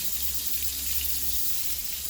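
Water from a garden hose runs through a rotating car cleaning brush used on rims, a steady close rushing hiss like a running tap that continues evenly throughout, with no voices.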